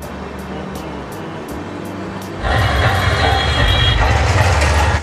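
A steady rumble of a train moving toward Haridwar with rhythmic clicks; the noise jumps sharply louder halfway through, as if a door or window opened.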